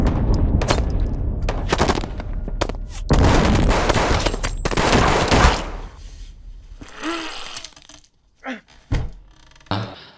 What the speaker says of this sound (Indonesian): Akan tetapi ketika Dino bersiap menembak